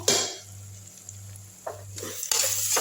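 Onions sauté in a pan for a mutton bone curry, a soft continuous sizzle punctuated by a few scraping stirs of a spoon against the pan, fairly quiet and close, with no talking.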